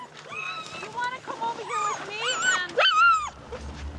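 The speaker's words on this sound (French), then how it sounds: "Le vol a rendu les chiens nerveux, d'autant plus qu'ils ne connaissent ni les lieux ni les voitures." Nervous husky sled dogs whimpering and yipping in a rising and falling chorus of high, wavering cries, fairly close and loud, with a low rumble underneath near the end.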